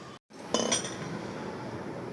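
Spoon clinking and scraping in a bowl while mixing powdered sugar into biscuit batter, a short run of soft metallic taps and stirring after a brief silence, close and quiet.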